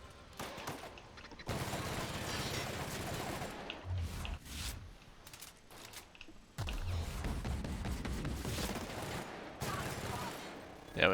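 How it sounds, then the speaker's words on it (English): A grenade launcher fires repeatedly during a firefight in The Outer Worlds, with dense bursts of loud gunfire and booming blasts separated by short quieter gaps. "He really does just use a grenade launcher."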